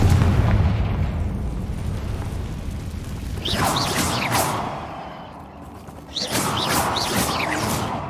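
Two explosion spells, Bombarda and Confringo, cast in Hogwarts Legacy, each a loud booming blast with crackling burst and debris, the first around the middle and the second near the end, over rumbling game ambience.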